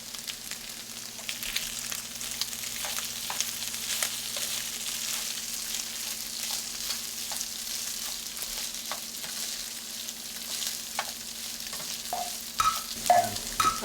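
Spam, corn and potatoes frying in a pan give a steady, even sizzle, with light stirring clicks and scrapes throughout and a few louder utensil knocks near the end.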